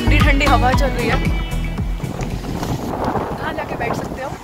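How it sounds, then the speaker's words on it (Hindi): Strong, cold wind by the sea near the Golden Gate Bridge in San Francisco roars and buffets the microphone in heavy gusts. A voice is faintly audible under the rumble. "बहुत ठंडी ठंडी हवा चल रही है."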